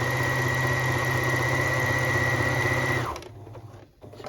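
A sewing machine runs steadily at high speed while stitching a waistband onto a skirt made from a dress, a loud continuous whir that stops abruptly about three seconds in, leaving quiet handling noise.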